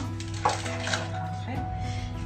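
Yogurt and apple cake batter being mixed in a bowl, with short scraping and tapping strokes at close range and a small knock partway through; a steady low background hum continues and no one speaks.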